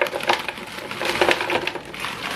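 Frozen mixed berries dropped into a blender jar for a smoothie, giving a brief burst of hard, icy clattering and crunching knocks.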